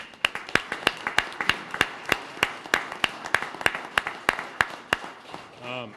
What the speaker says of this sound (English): A big round of applause for all of them as well.